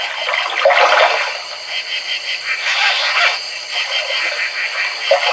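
Water splashes and sloshes steadily around a person taking a quiet swim near a camp, with broad, fairly close, continuous churning and a few louder surges.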